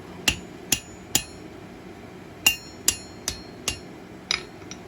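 A hammer strikes hot steel on a hardy cutter at a blacksmith's anvil, nine sharp ringing blows in an uneven rhythm, close and clear with no talk.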